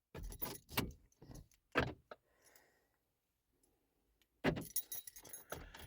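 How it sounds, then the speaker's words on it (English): Car keys jangle in several loud metallic bursts near the start and end of the clip, with quieter clicks and a silent stretch between, as a Ford Focus owner reaches for the ignition. "the key in the ignition"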